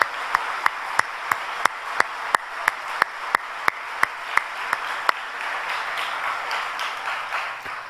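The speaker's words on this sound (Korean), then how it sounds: "만민을 통해서 영광 받으실 아버지 앞에 모든 감사와 영광의 박수 올려드립니다" A congregation claps in praise at a Friday all-night worship service, first in about fifteen sharp, evenly spaced unison claps, then breaking into a continuous wash of applause that runs to the end.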